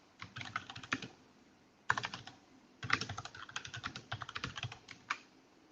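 Rapid typing on a computer keyboard, close and clear, in two bursts of quick key clicks separated by a short pause, with no speech.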